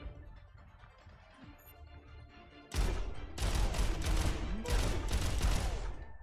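Video game gunfire: after a quieter stretch, a sudden loud burst of rapid automatic shots breaks out and continues in dense volleys to the end.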